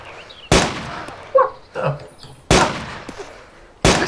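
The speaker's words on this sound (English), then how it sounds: "I see him shooting things again" Gunshots ring out in the survival video game DayZ: three sharp, loud cracks spaced about two seconds apart, with softer scuffs and clatter between them.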